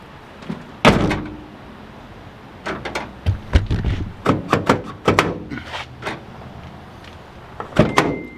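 Honda Element doors being shut after an actuator test, a run of loud, sharp slams and thuds spaced irregularly over several seconds, close by with no talking.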